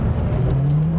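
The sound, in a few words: V10 gated Lamborghini accelerating in first gear on snow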